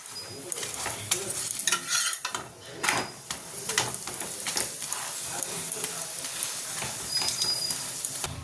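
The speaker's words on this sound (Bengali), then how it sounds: "পরোটাগুলো করে নিচ্ছি আর এদিকে আলুর দম" Parathas fry in a pan for a Sunday breakfast, a steady close sizzle with scraping and stirring noises and occasional clatter of the pan.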